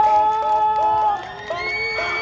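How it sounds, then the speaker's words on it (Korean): A crowd cheers and shouts at a K-pop dance contest at a street festival, where the grand-prize team performs to songs; high excited voices ring out over loud, sustained music. "환호성!"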